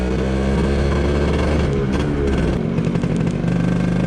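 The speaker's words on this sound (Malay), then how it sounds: "kita test dulu motor ni" A 2019 two-stroke motorcycle engine idles and revs up close, a loud buzzing rattle with a slight rise in pitch midway.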